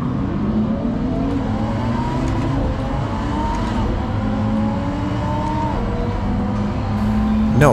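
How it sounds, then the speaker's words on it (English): A Lamborghini Huracan V10 engine screams continuously in a racing simulator, pitch climbing and dropping through gear changes, loud and close. "the Lamborghini Huracan must be the best sounding V10 I've ever heard"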